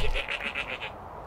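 A sheep in Minecraft lets out a single wavering bleat, fairly close and moderate in level, that fades out into quiet.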